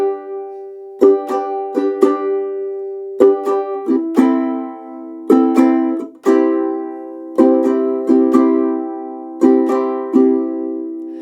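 A ukulele strums Tyler Childers' Oneida in a three-beat down-up pattern, with crisp, evenly spaced chord strokes repeating in a steady waltz-like rhythm, loud and close with nothing else heard.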